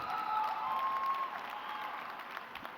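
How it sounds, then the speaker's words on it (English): Audience applause at a high school graduation ceremony, a sustained wash of clapping from a crowd in a hall, loud at first and slowly fading, with a brief tone sounding over the start. "He deserves a round of applause for that."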